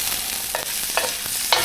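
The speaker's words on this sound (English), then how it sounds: "the cast iron skillet is hot now. So then what we'll do, listen to that sizzle." Chicken frying in a hot cast iron skillet, a steady loud sizzle with a few soft clinks and taps of pieces being set down, with no talking.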